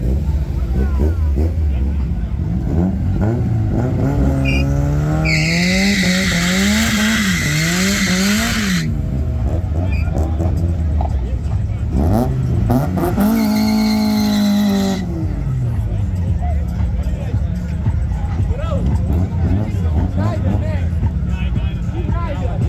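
An Audi TT and an Audi S3 drag race, with loud engine revs that climb and drop through gear changes and screeching tire noise in two bursts, under constant crowd noise and an announcer over a PA.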